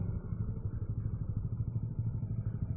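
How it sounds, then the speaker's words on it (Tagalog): A motorcycle with a loud aftermarket exhaust pipe rumbles in city traffic, giving a steady low, throbbing drone with a faint rattle, heard from the rider's position without any talk. "Sobrang ingay na pipe."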